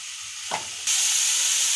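Vegetables sizzle in a spoonful of vegetable oil for a soup. The steady frying hiss jumps louder and brighter partway through as the flame is turned up.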